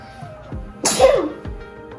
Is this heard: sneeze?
yes